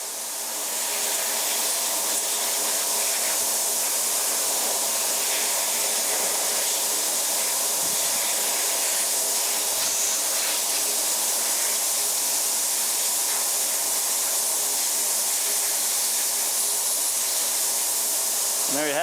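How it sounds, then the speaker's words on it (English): Compressed air blows over a part fresh from ultrasonic cleaning, giving a loud, sustained hiss that holds nearly level from start to finish. "Hit it with a quick blast of compressed air."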